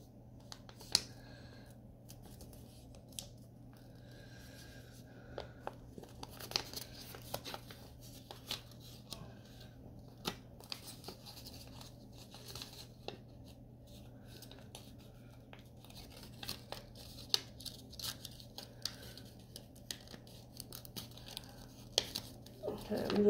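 Scissors snipping through a paper figure, soft irregular clicks and rustles close up under a steady low hum, with a person speaking quietly at times.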